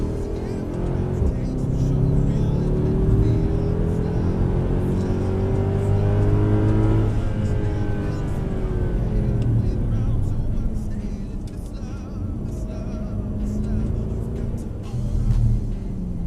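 A Mercedes-AMG C-Class engine revs and accelerates around a bend with a rising then falling pitch, loud and steady throughout, with no clear pause.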